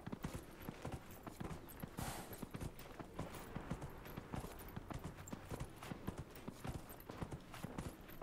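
Horse hooves clip-clop in a steady, quick rhythm during a horse race in the video game Dragon Age: Inquisition, a crisp, even beat that is quiet and keeps going throughout.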